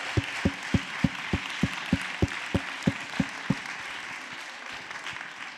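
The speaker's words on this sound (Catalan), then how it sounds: "Un fort aplaudiment per tothom, per tots i totes." Dense audience applause fills a hall at a community event about unaccompanied migrant youth, with a steady low thumping beat underneath that fades toward the end.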